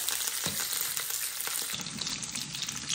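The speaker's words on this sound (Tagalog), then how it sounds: "Ayan, nagprito din ako ng tinapa" Smoked galunggong mackerel (tinapa) frying in oil, giving a steady, dense crackling sizzle close by with a few sharper pops, and no talking.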